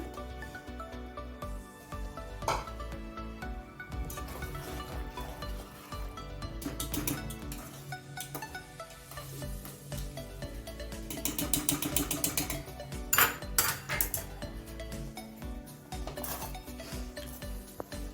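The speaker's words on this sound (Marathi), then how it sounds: "त्याच्यामध्ये आता आपण टाकूया बॉइल्ड केलेला पास्ता" Boiled pasta tumbled into a pan of melted cheese white sauce, with repeated clinks and scrapes of a spoon against the pan and soft sticky stirring, plus sharper knocks near the end.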